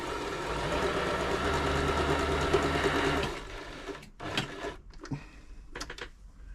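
An Elna 3007 sewing machine hums steadily while running a small zigzag stitch for about three seconds, then goes quiet apart from a few sharp handling clicks and knocks.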